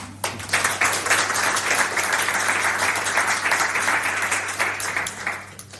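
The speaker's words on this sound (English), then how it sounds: "again a warm applause for Danny." An audience at a talk on extreme wealth gives a warm round of applause to welcome the speaker, with dense close clapping that starts abruptly, holds steady for several seconds, then thins out, over a low steady hum.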